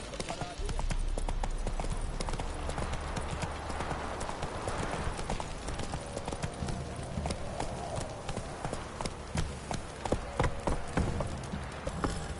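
Rhythmic clip-clop of horse hooves in the video game Witcher 3: Wild Hunt, a steady trotting beat close by that runs throughout, with a voice briefly heard over it.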